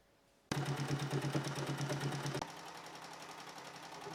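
A sewing machine stitches a seam along the bottom of a top made from a bedsheet, a steady rapid whirring hum that starts abruptly, then drops to a softer pace for the final seconds.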